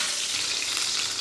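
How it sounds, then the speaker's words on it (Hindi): Cubes of paneer frying in a pan, giving a steady, dense hiss and sizzle of hot oil that runs unbroken and fairly close throughout. "अभी ये फ्राई होंगे।"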